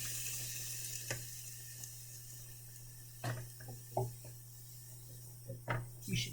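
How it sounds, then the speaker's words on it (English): Water from a kitchen tap splashes into an empty can to rinse out sauce, a faint steady run broken by a few short clinks and knocks near the end. "I'm gonna add some water to this just to clean out my can"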